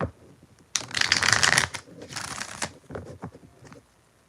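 Tarot cards are riffle-shuffled close up in a few quick crisp bursts, the loudest early on, followed by softer card handling and taps.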